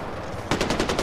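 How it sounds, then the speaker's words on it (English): Rapid automatic gunfire in the video game Far Cry 4, a tight burst of about seven or eight shots that starts abruptly halfway through, loud and close. "there are gunshots"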